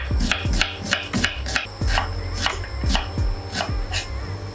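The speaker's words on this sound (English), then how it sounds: "I'm going to cut up my onion" An onion is chopped with a knife for butternut squash and miso soup, a quick run of sharp, close blade taps on a board with steady, regular rhythm throughout.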